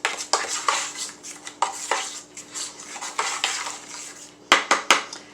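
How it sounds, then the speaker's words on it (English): A spoon smashes clumped brown sugar in a pan. Repeated sharp metallic scrapes and clinks come in uneven bursts, close and crisp, with a faint steady hum underneath and no talking. "your brown sugar is sort of clumped up, just smash it with the spoon"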